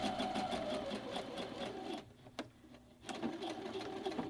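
A sewing machine stitches a front fly zipper seam: close, steady, rapid mechanical whirring with a brief pause midway before running on again, no talking.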